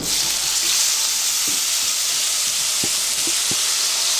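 Tomatoes fry in a hot pan with a loud, dense, continuous sizzle and hiss, broken by a few soft low knocks of stirring, close and with no talking.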